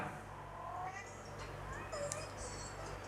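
Cat meows play faintly from a phone's speaker, thin and tinny, on a Cubot KingKong Power handset, with a couple of brief mews over a steady low background hum.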